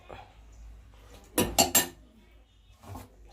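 Steel dishes and cutlery clink and clatter in three quick close bursts while sardine curry is served with rice, followed by a softer clink, with a faint voice in the background.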